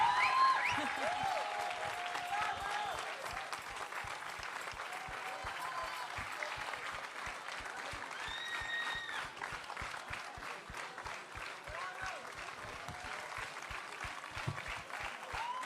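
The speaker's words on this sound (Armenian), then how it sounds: "Բարձր չեք ծափարում։" A crowd at an award ceremony keeps up continuous applause for about sixteen seconds, a fairly soft, steady patter of many hands with occasional whistles and a voice calling over it.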